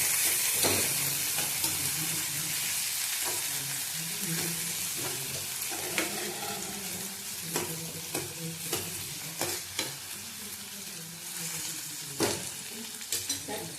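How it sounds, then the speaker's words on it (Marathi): Tomatoes and onion fry in a pan with a dense, hissing sizzle, joined by frequent sharp taps and scrapes from a spoon as they are stirred, close and steady throughout. "आपण टॅमॅटो टाकून भाजून घेऊया एक मिनटं भाजून घ्यायचं आहे"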